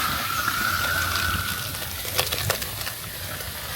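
Melted beeswax poured through a cloth into water, a soft steady trickle and splash with a few brief bright drips and clinks, moderately close, with no voices.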